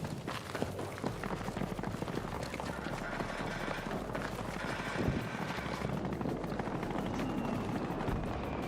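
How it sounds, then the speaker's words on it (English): Video game helicopter from Battlefield 2042 circling with a low, steady rotor drone under dense, crackling game noise, loud and continuous. "We got his chopper going around."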